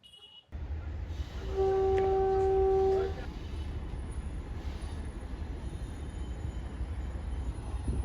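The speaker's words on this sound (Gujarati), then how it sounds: "આ રહી આપણી આજની train 5201 Bilimora Waghai passenger train" A Bilimora–Waghai narrow gauge passenger train at a small station sounds a loud, steady horn for about a second and a half, then a constant rumbling, hissing background of the train and surroundings continues.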